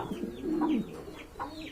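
A pigeon gives a short, low throaty coo up close, followed by a softer second coo and a brief click at the end.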